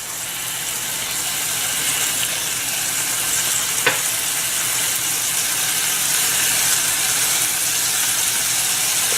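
Chicken pieces seasoned with pepper and onion salt fry in a pan while being stirred, giving a loud, continuous close sizzle with one brief scrape partway through.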